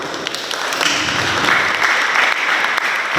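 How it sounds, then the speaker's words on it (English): Loud, dense applause from a school audience welcoming the Pohnpei State Governor at a high school Jeopardy competition, a sustained wash of many hands clapping without talk. "Please let us give him a round of applause."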